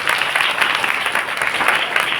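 A church congregation claps their hands in praise, producing dense, steady applause throughout with no voices standing out.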